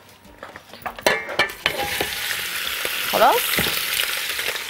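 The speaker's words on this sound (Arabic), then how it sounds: "اول حاجه هحطها هي اللحمه واسيبها تتشوح" Meat searing in hot oil in a pan for lamb marqouq: a loud, steady sizzle, with sharp clatters of a utensil stirring near the start and a brief spoken word.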